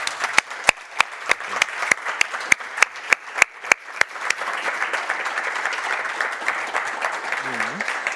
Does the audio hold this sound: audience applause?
yes